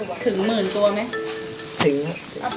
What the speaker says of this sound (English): So how many crickets do you have here?